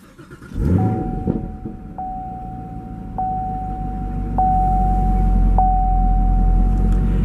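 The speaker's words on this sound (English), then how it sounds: "And you can hear on startup that beautiful exhaust note." A 2018 Chevrolet Camaro SS 1LE V8 fires up loudly close by, a sharp cranking burst settling into a deep, steady rumbling idle, with a thin whine running through it.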